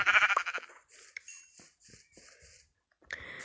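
A Minecraft sheep lets out a short, quavering bleat up close, followed by quieter game noises and a second brief sound burst near the end.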